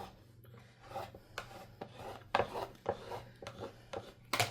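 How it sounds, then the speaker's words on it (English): Scraping a scraper tool firmly across craft vinyl, a run of short rasping strokes, some sharper and louder than others, close up over a faint steady background hum. "so I'll go ahead and scrape that down"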